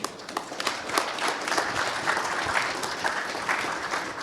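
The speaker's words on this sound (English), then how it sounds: "I will ask for a round of applause for our panelists here today" A conference crowd at a Nashville cybersecurity event applauds its CISO panel, a full, even roar of clapping from many hands that continues steadily throughout.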